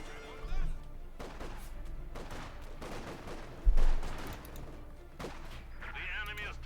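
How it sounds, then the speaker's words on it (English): Bursts of gunfire from Company of Heroes 2 as Soviet conscripts are shot to pieces, with several sharp volleys and one heavy blast over a constant battle ambience and a voice talking throughout. "Conscript being shot to bits"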